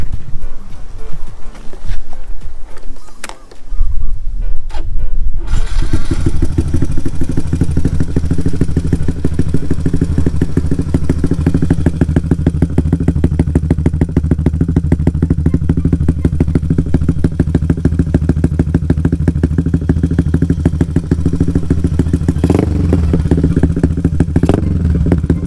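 Yamaha LC135 motorcycle fitted with an AHM 35mm exhaust idling and revving loudly nearby, a steady throaty engine drone with a brief drop after a few seconds, then continuous running with occasional blips.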